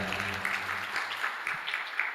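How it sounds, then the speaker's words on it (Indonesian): Modest applause from a small audience at an Indonesian Ramadan reading and philosophy talk session, a soft, steady patter of hands held at moderate distance for about two seconds, with faint voices underneath. "Tepuk tangan dong teman-teman kalian."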